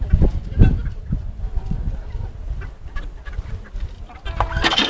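A chicken, its neck already pulled, flaps close by in loud thumping bursts mixed with scattered clucks and rustling, with the strongest flapping near the start and a fresh burst at the end.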